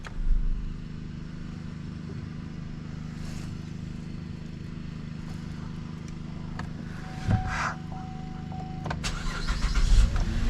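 A 2010 Cadillac SRX engine idles quietly, then a brief starter crank and catch are heard as the engine shuts off and restarts, the idle swelling louder near the end.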